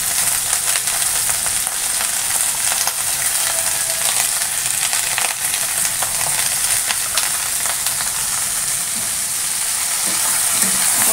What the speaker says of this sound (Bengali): পাঁচফোড়ন দিয়ে আনাজগুলো তুলে দেবো।